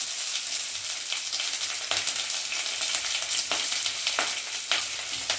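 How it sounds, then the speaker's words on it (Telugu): A sliced medium onion fries in oil in a pan, giving a steady close sizzle with a few louder crackles and stirring scrapes throughout, no voices. "ఇప్పుడు ఈ ఉల్లిపాయ వేగుతుంది కదా"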